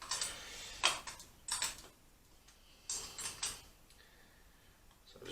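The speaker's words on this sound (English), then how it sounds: "just using a little wrench to tighten this up" Small wrench tightening a little bolt on a Tricam Ol' Blue Tractor tricycle, giving a few soft, irregular metallic clicks and ticks at close range in a quiet room.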